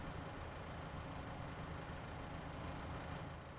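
A tractor engine idles in a farming video game, a steady low rumble that continues without change throughout and holds at a moderate, even level.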